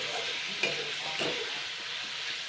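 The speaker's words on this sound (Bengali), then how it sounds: "একটু আমি আগে একটু হালকা ফ্রাই করে নিচ্ছি মাছগুলো।" Pieces of kuche mach (freshwater eel) lightly frying in a pan, a soft steady sizzle with two brief stirring scrapes, close and fairly quiet, no talking.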